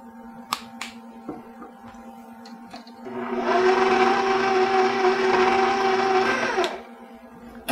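An electric hand mixer whirs steadily for about four seconds as vanilla is beaten into cookie frosting, starting abruptly after a few light clinks and stopping just as suddenly, loud and close.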